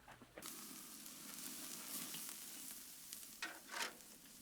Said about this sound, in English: now we're gonna put this directly on the grill, and we're just gonna get a nice char all the way around here